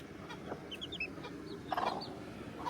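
Hens cluck softly inside a ranch chicken coop during morning chores, with scattered close clucks and murmurs over a steady low background.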